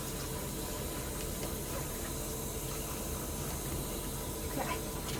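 Water running into a portable washing machine as it fills, a continuous hissing flow at a steady moderate level, with faint background noises and no clear speech.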